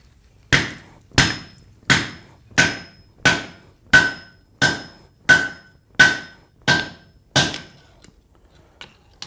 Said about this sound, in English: I'm just going to hammer her into a proper plate.